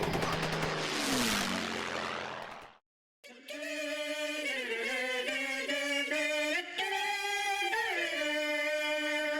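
A Dynam T-28 model airplane flying, its electric motor giving a steady buzzing drone with shifting pitch, preceded by a burst of windy noise and a brief dropout.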